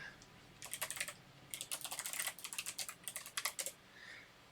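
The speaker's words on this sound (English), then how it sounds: "you can actually type realistically" Realistic keystrokes on a computer keyboard during a live multiplayer game test, clattering in quick, uneven bursts with short pauses between runs, close and clear with no speech.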